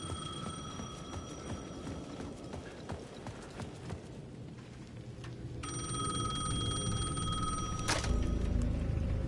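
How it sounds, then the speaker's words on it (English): Rapid clip-clop footsteps and rumbling ambience give way to a payphone in Alan Wake 2 ringing with a steady electronic trill, a bit distant, before a heavy thud and low rumble. "The payphone at the edge of the plaza was ringing again."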